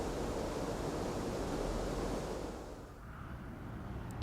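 River water rushing through a mill sluice, a steady broadband roar of flowing water that dips slightly near the end.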